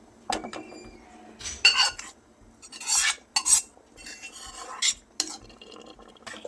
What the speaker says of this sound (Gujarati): હવે એકવાર બધું સરસ મિક્સ કરી લઈએ.